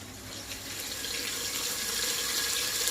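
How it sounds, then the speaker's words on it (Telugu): Steady stream of water pouring onto soaked basmati rice in a pot, a continuous hissing splash that builds slightly in volume over a few seconds. "కొంచెం వాటర్ అయితే తక్కువ పోయాలన్నమాట."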